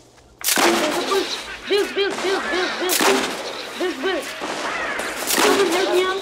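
Sharp bursts of gunfire crack out in a Fortnite Battle Royale match, a few loud shots spaced over several seconds, mixed with in-game sounds and a voice talking.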